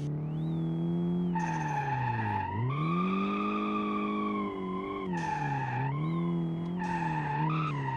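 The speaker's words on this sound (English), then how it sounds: "Because we are just smoking these tires." Tires skid and squeal in BeamNG as a car slides along the winding Deals Gap road, loud, sustained squeals that bend in pitch and pause briefly between slides.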